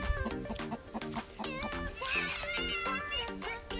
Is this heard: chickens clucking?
yes